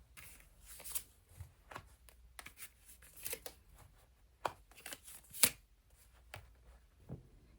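Tarot cards are shuffled for a reading: a faint, close, irregular run of soft riffles, slaps and flicks spread over several seconds, with occasional sharper snaps and no talking.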